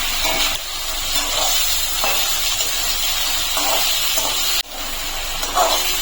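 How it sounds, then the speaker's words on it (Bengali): Chicken pieces frying in a pan for a home-style chicken stew give off a steady, close hiss and sizzle that runs throughout, with a short sharp click near the end. "চিকেনটা দিয়ে আমি একটু ভেজে নেবো চিকেনটাকে"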